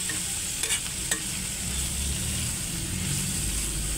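Chicken pastil frying with chicken oil in a pan, stirred continuously: a steady close sizzle with scraping utensil strokes and a couple of brief clinks, no talking.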